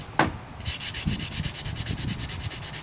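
After a sharp click, an 80-grit disc on a sanding pad works old finish off teak in fast rhythmic rubbing strokes, close and fairly quiet, with no one speaking.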